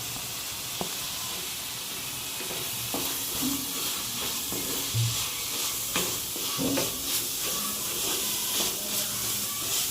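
Garlic sizzles and hisses steadily in hot oil while chicken curry is cooked in a hostel kitchen, with occasional stirring clinks and soft knocks over the continuous frying.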